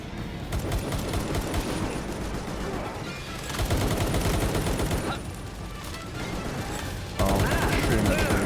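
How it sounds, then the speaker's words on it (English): A Gatling gun firing steadily in the open-world game Palworld, a continuous rapid rattle of shots with layered impacts at moderate level, running unbroken throughout with game effects mixed in. "Oh, shooting that tree. There's a Gatling gun."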